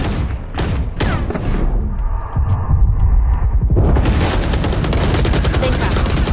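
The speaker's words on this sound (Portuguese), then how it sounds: "Granada!" A grenade explodes in the Valorant video game with a loud, booming burst. Dense, rapid gunfire and crashing effects surround it, filling the rest of the clip.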